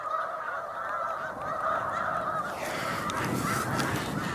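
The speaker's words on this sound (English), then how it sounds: "these are maybe being called in somewhat by the geese here in the water." A large flock of snow geese on Cayuga Lake honks in a dense, continuous chorus, many overlapping calls near and far with no pauses.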